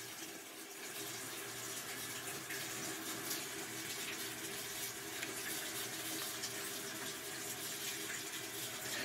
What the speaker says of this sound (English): And I need to wash off my fingers.